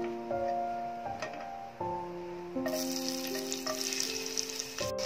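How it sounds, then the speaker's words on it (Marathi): Seven or eight garlic cloves drop into three to four spoons of hot oil for a kantoli vegetable dish, and a bright crackling sizzle suddenly rises partway through over a soft melodic tune. "तेल तापलंय, आता त्यामध्ये आपण लसूण टाकून घेऊ"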